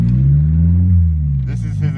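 A Honda Civic with a broken exhaust runs on open headers, a loud, deep, steady rumble that swells slightly before people start talking over it.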